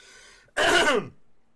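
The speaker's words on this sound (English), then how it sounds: "sorry for coughing in your ears, guys" A single harsh cough bursts out loud and close, about half a second long, after a stretch of quiet voiced humming.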